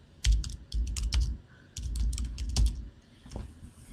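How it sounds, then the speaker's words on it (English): Close, quiet clicking of computer keyboard keys in quick bursts with short pauses between, as a search term is typed in. "I'm going to type in neck gaiter."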